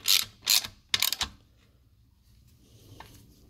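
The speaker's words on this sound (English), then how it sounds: "Pop the ring spanner on the nut below, just there. And then just spin the top." A ring spanner turning a nut while a MED straight-cut Mini gearbox is assembled gives a few quick metallic ratcheting clicks in bursts, close up, then quiet rattles.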